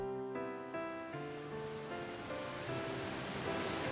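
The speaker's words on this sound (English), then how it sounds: "I heard the terrible roar of water from the passageway on the other side of the wall." Rushing water roars through a passageway beyond a wall in the Ever17 video game, a loud, steady broadband torrent opening with a few fading tonal notes before settling into a continuous wash with no voices.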